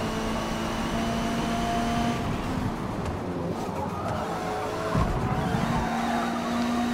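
Race car in Forza Motorsport, its engine holding a steady high drone with whining tones while the tires squeal and skid through a corner, loud and continuous for several seconds with no one talking.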